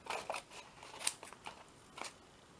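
Scissors trim excess material from a glued mixed-media fairy craft, making a few quiet, crisp snips spaced irregularly in close succession.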